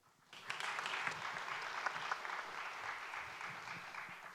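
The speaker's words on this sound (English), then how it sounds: "Let's welcome him by giving him a warm round of applause" An audience at a Nordic–Baltic security panel breaks into warm applause welcoming a speaker, a dense, fairly faint patter of many clapping hands that starts abruptly and carries on evenly.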